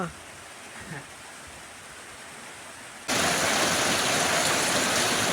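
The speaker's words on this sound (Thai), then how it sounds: "เสียงฝนตกแล้วจ้ะ" Quiet ambience with a faint voice gives way to a sudden, steady downpour of rain that hisses loudly and continuously.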